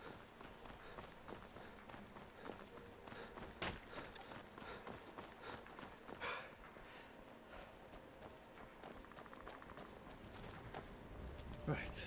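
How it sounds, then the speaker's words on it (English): Rapid hoofbeats clatter in a galloping rhythm, with scattered louder thuds and a background hum, as a horse runs in Skyrim. "Right, okay, there's my horse."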